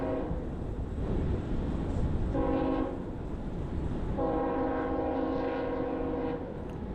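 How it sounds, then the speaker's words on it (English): A long freight train passes along a New York rail line near an Amtrak station, a continuous heavy rumble punctuated by two horn blasts, the second held for about two seconds. "That's the freight train you hear."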